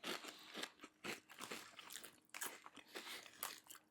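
Pickle-flavored potato chips crunch in quick bursts of close, crisp bites and chewing, fairly quiet, with no talk.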